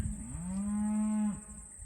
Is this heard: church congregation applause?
no